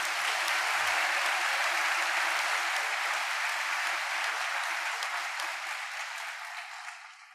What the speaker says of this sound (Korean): 박수 치셔도 돼요.